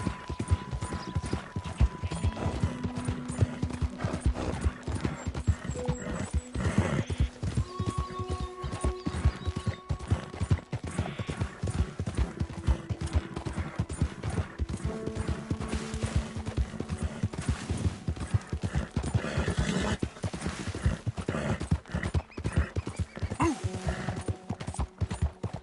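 Horse hooves clip-clop at a gallop inside a PS4 video game, a steady rapid rhythm running the whole stretch over game music and ambience, with a brief neigh and scattered mechanical clatter.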